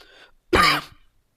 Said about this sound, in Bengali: আমার অবশ্যই একটু কাশি, এই জন্য কাশ আসতেছে হালকা হালকা